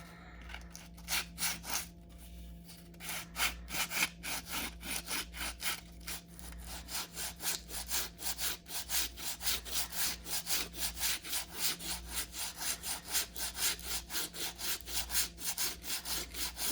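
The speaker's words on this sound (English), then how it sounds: "wrap some sandpaper around it, and just lightly smooth this out" Sandpaper wrapped around a wooden block rubbed by hand over the wood of an ES-335 guitar kit being repaired, a close, even rhythm of raspy back-and-forth strokes that grows steadier and faster.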